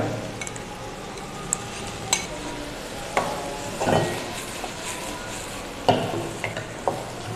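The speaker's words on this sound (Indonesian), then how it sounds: "ditumis sampai daging ikannya itu berubah warna" Chunks of fish meat and diced potato sautéed in a pan for fish chowder give a faint, steady sizzle, broken by a few sharp utensil clinks and scrapes.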